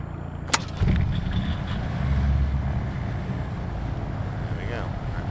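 Diesel engine of a Diamond DA62 twin aircraft in a flight simulator starts with a brief click, then settles into a low, steady rumbling idle that continues to the end.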